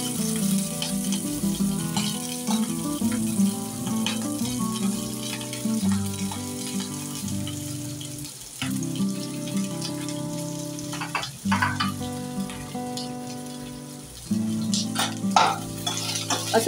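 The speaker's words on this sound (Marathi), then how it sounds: "चला, आपण तेल पण गरम झाले, आपण आता सगळ्यात आधी फ्लॉवर फ्राय करून घेऊया।" Cauliflower florets frying in hot oil in a kadai for a dhaba-style veg Kolhapuri, with a continuous crackling sizzle and brief dips, under a background hum, heard close with no talk.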